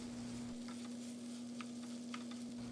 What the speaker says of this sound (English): It is now time to add the 2 pounds browned ground beef.